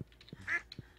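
Duck named Puddles in the farming game Stardew Valley gives a single short, clear quack over faint soft game background sounds, with no talking.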